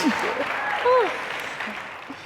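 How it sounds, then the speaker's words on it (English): Steady applause from a crowd fills the room, with a voice speaking briefly over the clapping. "you can give them a bigger round of applause than that"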